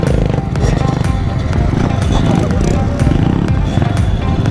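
Loud, continuous engine drone of a mini bike during a game of mini bike soccer, buzzing steadily throughout with rough, close outdoor rumble.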